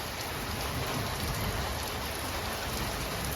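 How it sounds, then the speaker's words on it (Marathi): Heavy rain pours steadily in a village, a dense, unbroken close roar of drops on surfaces with no voices, constant in loudness throughout. "असा पाऊस पडला"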